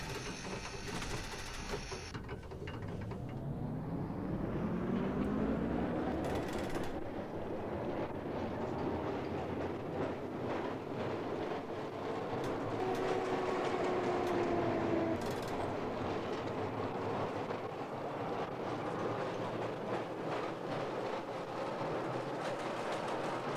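In the LOTUS tram simulator game, a tram rolls along forest line rails with a steady mechanical hum, rising and falling motor whine and rattling clatter, continuous and fairly loud throughout.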